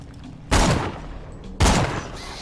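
Two loud, sharp gunshot bursts about a second apart while shooting spiders in a video game, each decaying quickly over a quiet background.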